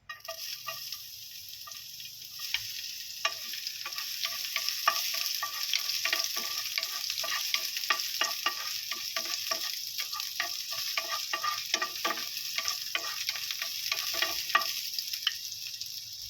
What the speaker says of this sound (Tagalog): Lagay na po natin ating bawang.